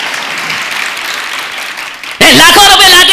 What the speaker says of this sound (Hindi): सही है तो ढंग से ताली बजा